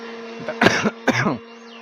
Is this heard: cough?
yes